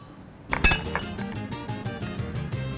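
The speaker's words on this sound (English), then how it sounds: "And just give this one more stir." Ice cubes clink sharply against a glass as a cocktail gets a stir, a loud cluster of knocks up front followed by a steady run of lighter, rhythmic taps and rattles.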